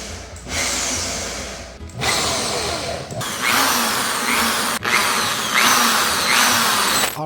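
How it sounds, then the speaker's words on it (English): A power drill runs in several bursts while an IKEA desk is assembled, loud and close, its motor whining up and pausing between three or four separate drilling passes. "this is literally my first time drilling"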